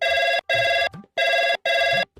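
A phone rings on an outgoing call, heard as four steady electronic ring bursts in quick rhythm with short gaps between them, loud and close, with no voices.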